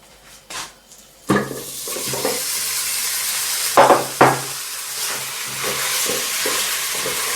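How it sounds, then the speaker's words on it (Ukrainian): Meat, carrot and onion dropped into a dry frying pan give sharp clattering hits and scrapes, followed by a continuous close sizzle with occasional stirring knocks; no one speaks. "Зараз у суху пательню закидатиму м'ясо, моркву, окружу пательну мультиварку м'ясо, моркву і цибульку."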